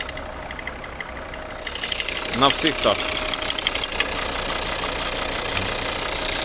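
A 2012 Volvo V50 2.0 D3 diesel engine idles steadily up close under an open bonnet with a faint ticking clatter, while someone speaks briefly over it.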